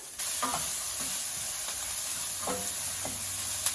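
Tofu with carrots, green pepper and jalapeno sautéing over a high flame in a pan, a steady sizzle with a few soft stirring scrapes, close and moderately loud, with no voices.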